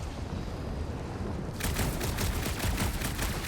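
Rapid gunfire from a blaster in Marvel's Guardians of the Galaxy, a steady stream of shots that kicks in partway through over a dense, loud background of game ambience.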